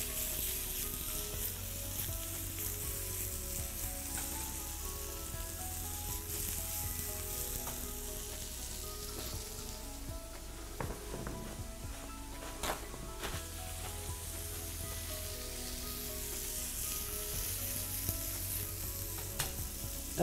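Steady sizzling of chopped garlic frying in a hot pan, continuous and close, with occasional faint clinks and no voices.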